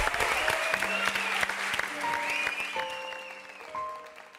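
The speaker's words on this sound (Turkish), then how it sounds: "Alkışlar Burak Kut için geliyor." Studio audience applause for Burak Kut on a Turkish TV comedy show, a steady wash of clapping that gradually thins and fades, with bright sustained musical tones running beneath it.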